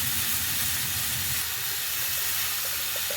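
Potatoes fry in a pan with pointed gourd and peanuts during stirring, giving a loud, steady, broadband sizzle that softens slightly partway through.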